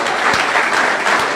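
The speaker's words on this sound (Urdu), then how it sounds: "اس کے جلال کے لیے زوردار تالیاں بجا دیں" Loud, dense applause from a church congregation during a sermon, a steady wash of clapping for the whole short stretch.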